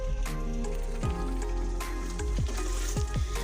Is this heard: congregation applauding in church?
no